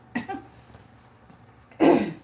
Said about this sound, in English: You having some kind of sneeze and coughing attack.